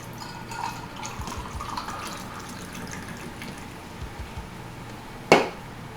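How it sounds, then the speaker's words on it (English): White Monster energy drink poured into a Tom Collins cocktail, a soft, faint trickle and drip of liquid that ends with a sharp clink of glass. "Pour the Monster in."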